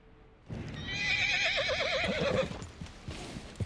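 A horse in Red Dead Redemption 2 lets out one loud, wavering neigh lasting about two seconds, close and prominent, with light hoof and ambient game sounds around it.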